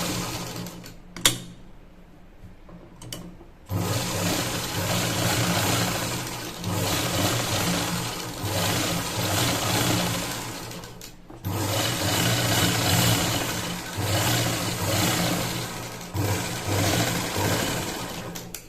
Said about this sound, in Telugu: ఇక్కడ ఇది మళ్ళీ స్టిచ్చింగ్ చేసుకోవాలి లైనింగ్ పైన స్టిచ్చింగ్ చేసుకోవాలి